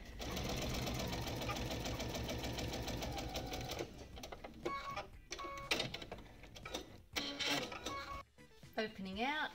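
A sewing machine runs steadily over a bulky center seam of a pinwheel quilt block, a fast rhythmic needle chatter that gives way to scattered clicks and handling noises, with a voice talking over it.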